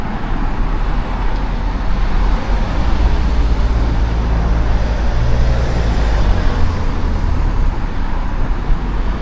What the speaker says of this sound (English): And endless traffic.